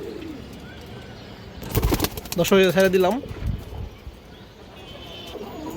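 Pigeons coo at a loft farm, low rumbling coos running faintly through the background while someone talks over them in the middle.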